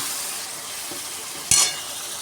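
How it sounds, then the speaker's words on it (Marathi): Chopped okra drops into hot oil with a tomato mixture and bursts into one sudden loud sizzle, which fades back into a quieter steady hiss. "आता याच्यात सोडते मी चिरलेली भेंडी"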